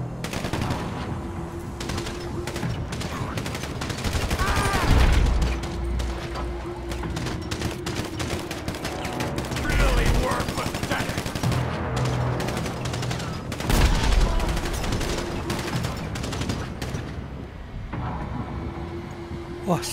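Rapid bursts of automatic gunfire fill a GTA 5 zombie survival mod, crackling repeatedly over a constant din of game sound, with heavier impacts now and then.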